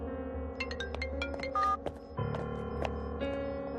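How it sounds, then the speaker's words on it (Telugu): A phone call is placed: a quick series of dialing tones and electronic beeps sounds close and clear, then a steady ringback tone pulses over a low background hum. "రింగు వెళ్తోందయ్యా."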